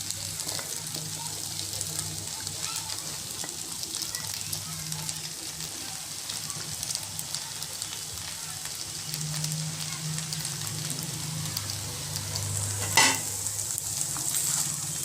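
Gobi manchurian with spring onions is stir-fried in a pan, giving a continuous soft sizzle with repeated scraping and stirring strokes and one sharp clink near the end, without any voices.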